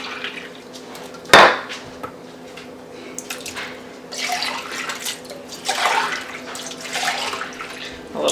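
Canned goods tip into a crockpot and the empty cans are rinsed out with broth, giving one sharp metallic clank followed by wet sloshing, pouring and light clinking near at hand, with no talking.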